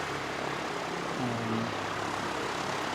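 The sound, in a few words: aero club propeller aircraft starting up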